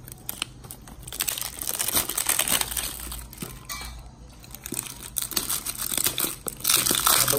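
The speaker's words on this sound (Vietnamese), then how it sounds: "Đây mình sẽ bóc hộp cho các bạn xem nhé." Packaging around a block of fresh cordyceps is torn open, producing continuous loud, close crinkling and crackling of plastic for several seconds, with no talking.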